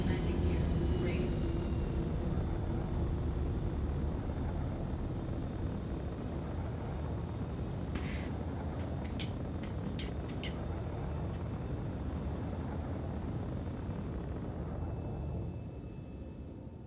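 A steady aircraft engine drone in a video game follows the landing gear being raised, holding a broad, even roar under faint talk before fading slightly near the end.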